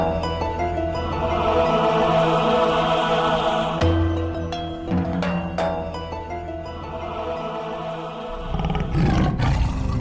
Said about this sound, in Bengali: কিন্তু ডাকছে তো বাঘের মতো।